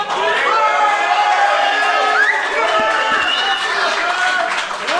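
At an LPAL arm wrestling match between Martin Hentschel and Veljko Stanojevic, a packed audience keeps up a loud, unbroken roar of cheering and shouting, with an excited commentator talking over it the whole time.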